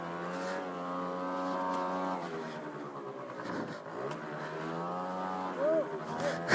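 Motorbike ridden off-road across rough moorland on Dartmoor, a steady buzzing engine drone that dips and rises as the throttle changes, close up and continuous, with a voice talking over it.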